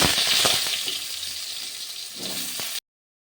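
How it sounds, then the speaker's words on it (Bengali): Cut and washed potatoes dropped into hot mustard oil in a pan, a loud burst of sizzling and bubbling that settles into a softer crackle with a few clinks before cutting off abruptly. "প্রথমে আমি আগে থেকে কেটে ধুয়ে রাখা আলুগুলি ভাজতে দিয়ে দিচ্ছি"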